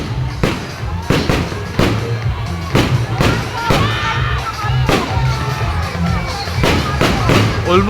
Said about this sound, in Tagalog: Fireworks